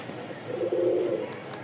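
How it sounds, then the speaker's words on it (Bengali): A pair of large Rajshahi Giribaz pigeons gives a single soft, low coo lasting about half a second, close and fairly quiet against a faint background. "খুব সুন্দর একটা জোড়া, বড় সাইজের রাজশাহী গিরিবাজ"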